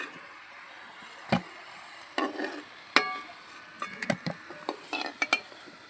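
Fried egg devils being lifted out of a frying pan, with scattered close metallic clinks and scrapes of a utensil against the pan over a faint background sizzle.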